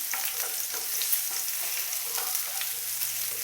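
Chopped onion frying with curry leaves in a pan, a steady close hiss of sizzling oil with faint stirring scrapes, no voices.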